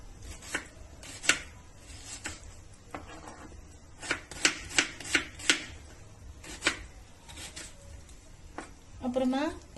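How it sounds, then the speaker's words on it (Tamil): Knife chopping onion finely on a board for masala vadai: irregular crisp taps, some in quick clusters, fairly close, with soft background noise. "வெங்காயம் பொடியா கட் பண்ணிக்கங்க"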